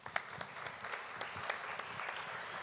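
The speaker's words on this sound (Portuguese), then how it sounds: "Então, uma salva de palmas para ela." Audience applause for someone speaker at a journalism panel, a steady wash of many hands clapping, fairly distant and even throughout with no voices over it.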